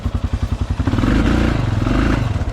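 Honda Rincon 650 ATV engine, loud and close, thumping in rapid pulses before revving up into a sustained roar for a wheelie attempt, with some clatter.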